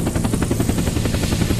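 A low, rhythmic rotor-like drone of an airdrop plane passing overhead in a survival video game, steady and fairly loud, with no one talking.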